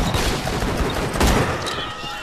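Rapid gunfire at a firing range in Borderlands 2, a dense, continuous fusillade of shots filling the whole stretch at steady loudness, with no one talking over it.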